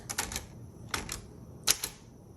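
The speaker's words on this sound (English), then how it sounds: "Here's your backspace." Three short mechanical clacks from the backspace key of a 1954 Smith Corona Tabulator typewriter, evenly spaced and fairly close, each a crisp metallic strike with a small rattle, heard alone without talk.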